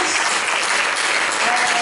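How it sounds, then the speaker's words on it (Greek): A large round of applause for Evi Karagianni fills a hall at a cultural association event. Many hands clap in an even, continuous roar that holds steady throughout. "Και ένα πολύ μεγάλο χειροκρότημα δεύτερο για την Εύη την Καραγιάννη"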